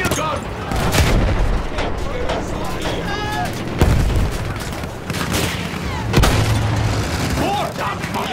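Field gun artillery fire in the game Battlefield 1, with heavy booms and bursts of gunfire in a chaotic battle, mixed with vehicle rumble and shouted voices.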